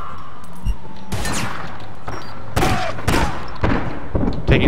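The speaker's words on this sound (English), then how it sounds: "Taking fire from everywhere" Bursts of gunfire in APB Reloaded, several sharp close shots and short volleys spaced irregularly over steady background noise, loud and punchy.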